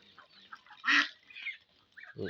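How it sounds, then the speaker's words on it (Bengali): Domestic ducks kept at a family home give soft, scattered honks and quacks, with one louder nasal call in the middle against a quiet background. "এই হাঁসগুলো আমার পোষা হয় আমার নিজের বাড়িতে"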